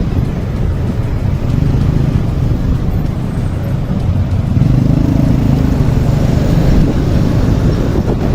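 An Alva One electric motorcycle motor hums steadily with a low drone and faint whine, rising slightly partway through, with no voices.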